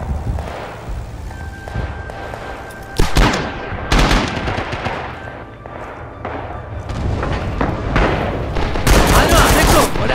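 Artillery barrage and gunfire in the World War II shooter Rising Storm: repeated heavy booms and bursts of rifle and machine-gun fire, loud and dense, with scattered voices underneath.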